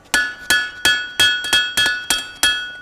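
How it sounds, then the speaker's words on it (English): A blacksmith strikes hot steel on an anvil while forging a tie bar, eight evenly spaced, loud ringing hammer blows, each leaving a bright metallic ring that fades before the next. "having a square-faced hammer really comes in handy"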